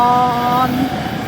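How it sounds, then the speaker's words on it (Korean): A Brussels metro line 5 subway train gives a steady, fairly loud tonal electric whine over a low rumble. The whine fades partway through and the rumble continues. "우리가 타고 온 지하철이에요."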